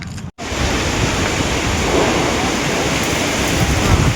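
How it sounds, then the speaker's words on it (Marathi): Strong wind gusting at a beach, a steady loud broadband roar with wave-like surf texture, continuous throughout apart from a momentary dropout near the start. "गायज वारं सुटलंय सगळं"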